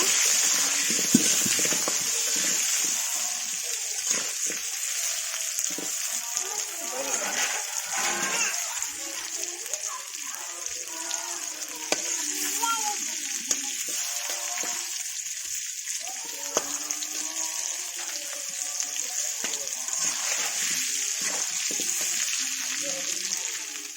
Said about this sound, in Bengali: আমি এটা লাল লাল করে ভেজে নেব।